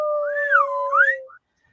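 A close, clear whistle glides up and down over a steady held tone, ending in a short chirp before silence.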